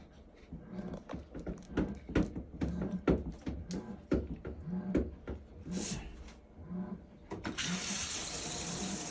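Clattering and knocking of handling, then a steady hiss of water spraying from a shower head starts near the end and keeps going.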